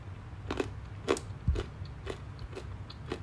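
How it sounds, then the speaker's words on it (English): A crunchy chocolate-covered cherry snack is chewed close up, with a steady series of crisp crunches about every half second and no talking. "The crunch is really good."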